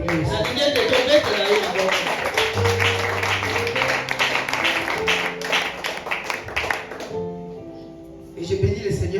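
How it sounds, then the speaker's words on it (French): A church congregation claps and applauds together, steady dense clapping under a voice and organ-like tones, fading out near the end. "J'aimerais qu'on acclame pour lui aussi"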